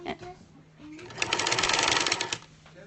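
A sewing machine stitches across a knitted steek, its rapid mechanical chatter building and running steadily for over a second, close and clear, with a voice briefly heard at the start.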